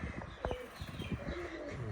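Pigeons kept by a pigeon fancier give soft, low coos, faint and close, mixed with a few brief chirps and thumps.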